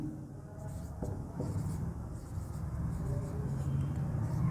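Chalk or marker scratching steadily on a classroom board as a teacher writes out a sentence, a soft continuous scraping with faint taps, close and alone against low room hum.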